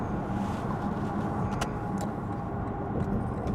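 A Lexus ES 350 F Sport rolls along on a rainy night at 2 AM, its steady road rumble and tyre hiss on wet pavement filling the cabin continuously, with a couple of brief brighter swishes passing by.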